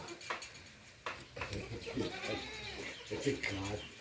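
Meat goats bleating on a farm, several wavering calls overlapping, near and fairly loud, with someone talking over them.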